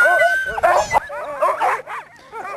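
Husky sled dogs bark, yip and whimper in quick bursts at a sled dog race, close and loud, several excited yelps overlapping in an irregular rhythm.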